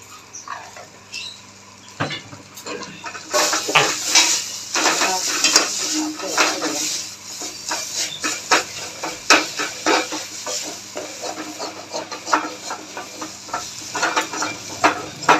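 Taro leaf curry flavored with tamarind and a little sugar being stirred in a pan, with rhythmic scraping and clinking of a spatula over a soft sizzle, close and fairly loud, building after a quiet start.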